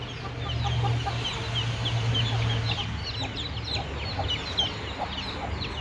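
Chickens clucking and calling in a farm coop, a dense chorus of short overlapping bird calls close by over steady outdoor background noise.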